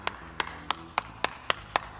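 Single hand claps sound in an even, steady rhythm, about eight sharp, close claps over a faint background hum, with no talking.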